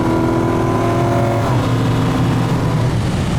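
A Hemi-powered 1967 car accelerates at highway speed, its engine a loud, continuous roar that holds steady throughout with no talking.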